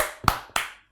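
Two sharp hand claps about a quarter-second apart, near and fairly quiet, during a light entertainment chat show, with no voices during the claps.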